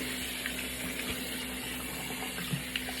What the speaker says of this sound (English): what I am going to do is just rinse my face off